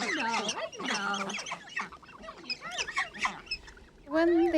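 Young barnacle geese call near a person in the wild, a busy run of close, high, wavering honks and chirps, loud and overlapping, with a strong burst at the end.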